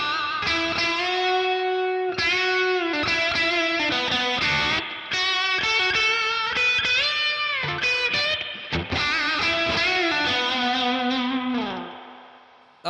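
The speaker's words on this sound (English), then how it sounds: "There's too much spring reverb in there." Heavily effected electric guitar with spring reverb and delay, played as a continuous run of sustained chords and melodic lines with trailing echoes, loud and close, fading out at the end.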